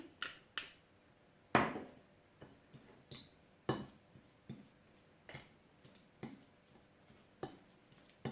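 A spoon mixes chopped boiled egg with light mayonnaise for sandwich filling in a bowl, giving a series of close clinks and scrapes against the bowl at a loose, uneven rhythm, with no talking.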